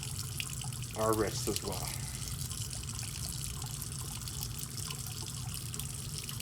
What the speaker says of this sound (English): we want to rinse it off in the sink